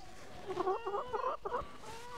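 A silkie hen clucks nearby in a short run of throaty, tonal calls in the middle, with quiet gaps before and after.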